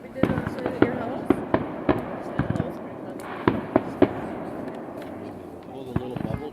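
Backyard fireworks go off in a series of sharp cracks and pops at irregular intervals, several clustered together, while people chat nearby.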